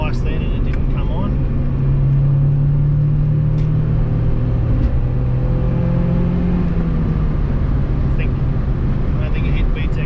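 Honda Civic EK4 hatch with a B16A2 engine cruising, with a steady engine drone and road rumble, pitch rising and falling slightly under ongoing cabin conversation.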